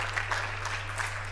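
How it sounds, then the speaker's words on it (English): Brief burst of audience applause and light cheering at a LifeWave Super Saturday corporate event, a steady wash of clapping at moderate level over a constant low electrical hum. "I feel like that's worth like a bigger cheer than that"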